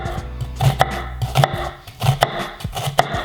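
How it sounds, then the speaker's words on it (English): A knife dicing an onion on a cutting board, making sharp, evenly spaced chops in a steady rhythm, close and clear with no talking. "Notice I'm not cutting like all the way through the onion."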